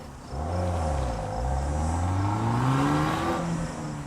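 A 2013 Dodge Dart with the Fiat 1.4-litre turbocharged MultiAir engine drives steadily. Its engine hum climbs smoothly as it accelerates, loud and close without a break, with no voices.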